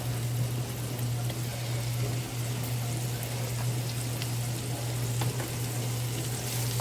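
Garlic sizzles in a pan on medium heat, a steady soft frying hiss with faint crackles and a low constant hum beneath.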